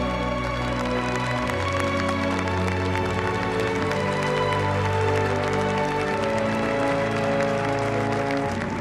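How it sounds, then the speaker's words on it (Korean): Audience applause at an Armed Forces Day ceremony during a Black Eagles aerobatic flight display, a dense continuous clapping crowd mixed with loud sustained tones over the whole span. "뜨거운 박수 부탁드립니다."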